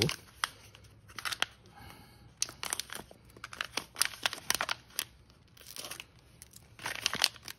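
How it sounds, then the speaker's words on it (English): A sealed Ziploc plastic bag is pulled open and handled, giving close, irregular crinkles and sharp plastic rustles that come in scattered bursts throughout. "Let's open it up. Oh, it's in this Ziploc sealed bag."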